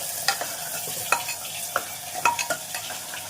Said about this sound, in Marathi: एक बारीक चिरून घेतलेला कांदा घालून घेतला। हे थोडं परतून घेत आहे